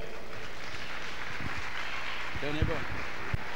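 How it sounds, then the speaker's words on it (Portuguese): An audience at a gospel praise event claps along at moderate distance, a steady wash of applause under a voice talking. "As palmas, louve ao Senhor."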